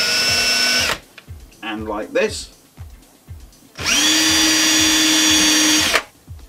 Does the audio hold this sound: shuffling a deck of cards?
no